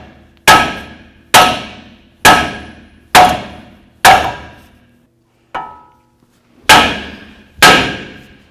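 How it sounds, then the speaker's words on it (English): A hammer strikes the steering knuckle of a 2007-2014 Cadillac Escalade in a run of eight sharp metallic blows at a steady pace, each ringing out briefly, with one lighter tap in a pause before the last two hits. "I'm going to take my hammer again, and I'm going to come right down here, and we're going to hit right on the knuckle itself"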